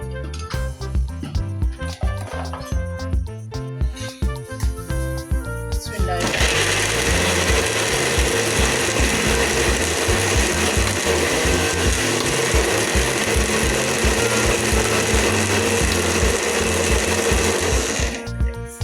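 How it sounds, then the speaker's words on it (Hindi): A mixer grinder pulses with choppy bursts, then runs in a loud, steady, high whine for about twelve seconds while grinding ginger and garlic into a paste, before cutting off near the end. "इसको हम पीसते हैं। देखना कितना अच्छा पेस्ट बनेगा एकदम से।"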